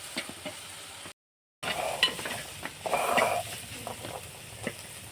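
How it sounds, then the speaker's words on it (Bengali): Banana flower (mocha) is stirred and fried in a pan, with a soft continuous sizzle and scraping stir noises, briefly cut to silence before the frying resumes, fairly quiet and without talk. "এবার খুব ভালো করে নেড়ে নেড়ে আমি মোচাটা ভেজে নেব"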